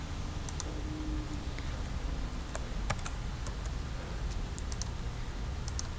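A command is typed on a computer keyboard in Ubuntu: scattered sharp key clicks in short bursts sit over a steady background hiss, near and moderately quiet, with no talking.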